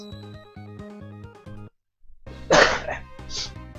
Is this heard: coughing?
yes